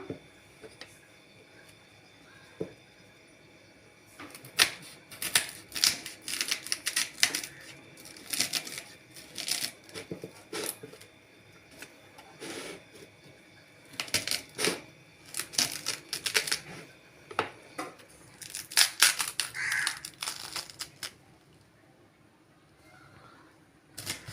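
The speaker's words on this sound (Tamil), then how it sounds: "கோஸ் கட் பண்ணிக்கலாங்க" Fine cabbage shreds are sliced with a knife on a board for a Tamil cabbage-beans stir fry, heard as rapid bursts of crisp close chopping taps broken by brief pauses.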